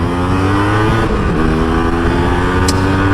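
A Yamaha RX100 two-stroke motorcycle engine runs loud and close. Its buzzy revs climb and fall with a raspy, steady drone and no talk over it.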